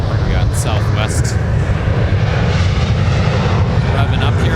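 A Southwest jet airliner at MSP airport roars as its engines spool up, a loud, dense, continuous rumble with broadband hiss, steady throughout with a couple of brief higher-pitched bursts early on.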